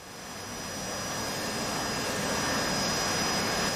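Harrier jump jet engine in a video game, a steady broadband roar that swells slightly over the first second and then holds loud and continuous, with a faint high whine above it.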